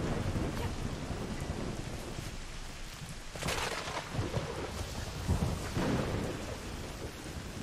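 Steady rain and rolling thunder in a video game, the rain hissing throughout while two or three thunder rumbles swell up, all fairly faint and with no talking.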